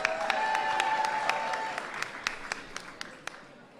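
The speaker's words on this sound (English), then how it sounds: "Give them a big round of applause." Applause from a reception audience at the White House Black History Month event honouring members of Congress and the Congressional Black Caucus. Dense clapping and crowd noise fade out over a few seconds, leaving a handful of scattered, sharp individual claps.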